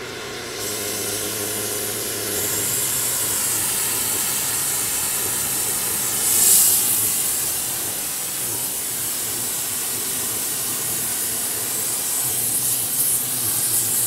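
An oxy-fuel torch preheats a worn toe tip excavator bucket ahead of repair welding, giving a steady, close roaring hiss that runs unbroken for about fourteen seconds and swells briefly partway through.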